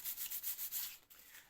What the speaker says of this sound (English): and as you can see I'm just sanding that back out.